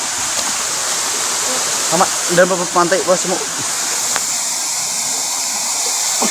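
Bungkang waterfall rushes in a steady, loud wash of water, while people talk briefly over it midway.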